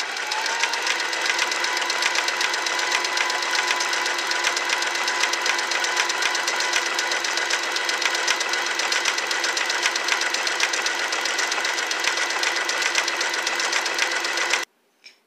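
A Singer Simple 3337 sewing machine runs continuously for about fifteen seconds, a fast, even mechanical whir of stitching that cuts off abruptly near the end.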